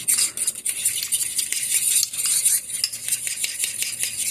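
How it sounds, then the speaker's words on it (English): A honey custard mixture with vanilla and salt being stirred in a pot, giving steady close scraping and clinking of a utensil against the pot, continuous and fairly loud, with no voices. "Take this out and just go and mix that up in there."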